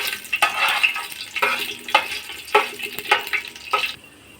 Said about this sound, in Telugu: ఆయిల్ హీట్ అయిన తర్వాత ఈ దినుసులన్నీ వేసుకోవాలి ఫ్రెండ్స్